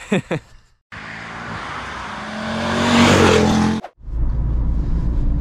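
Mercedes C220 CDI W203 with automatic transmission, a 150 HP diesel, driving on a German Autobahn, cabin noise swelling as the engine pulls, then a brief dip and a steady loud road roar.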